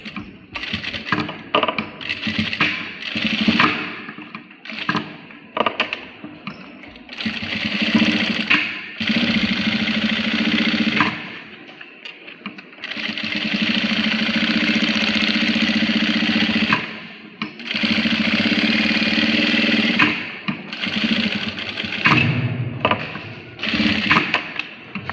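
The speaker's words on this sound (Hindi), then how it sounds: "अब इसके बाद एक लास्ट सिलाई और लगेगी इसमें" A sewing machine stitches a shirt collar in several close, clattering runs of rapid rhythmic needle strokes, separated by short pauses, with no talking.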